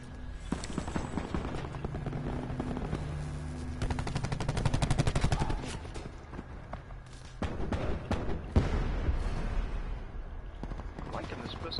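Pistol gunfire in Call of Duty Blackout, with rapid bursts of shots and a longer run of fire amid other battle noise, under game voices and talk.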